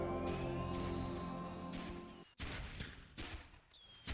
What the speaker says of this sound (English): we're just sitting here looking at quiet fireworks